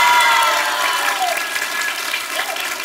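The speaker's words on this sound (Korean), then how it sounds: "박수 한번 부탁드리겠습니다." Dense applause from a lecture audience at a youth talk fills the hall, steady and fairly loud, with a faint tonal whine running under it and slowly easing off.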